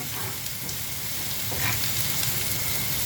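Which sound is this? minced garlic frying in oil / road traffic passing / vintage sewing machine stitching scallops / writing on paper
minced garlic frying in oil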